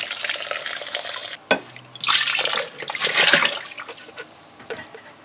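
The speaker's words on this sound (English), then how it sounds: "Bit of hot water will help." Hot water pours and splashes into a bucket in a few bursts, stopping briefly between them, fairly close and loud, with no speech.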